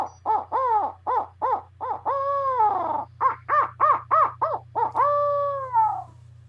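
A handheld owl call is blown to imitate a barred owl's laugh, a run of rapid, loud hooting notes rising and falling in quick bursts over a steady low hum, with no talking.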